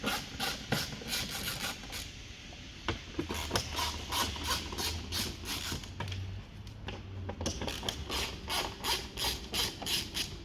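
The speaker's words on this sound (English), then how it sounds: "Firstly, undo the 4 T25 screws along the top of the grille." A Torx T25 screwdriver undoes the screws along the top of a VW Tiguan Mk2 front grille, giving close, quiet, repeated ratcheting clicks in a steady rhythm with a brief low whir partway through.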